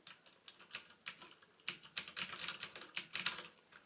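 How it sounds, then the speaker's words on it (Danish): Clicky keystrokes from a Cooler Master Quickfire XT full-size mechanical keyboard with Cherry MX Blue switches, a steady run of crisp, close-up clicks in uneven bursts with no voices. "et full size mekanisk keyboard med Cherry MX blå switches, som giver det rigtig karakteristiske klik"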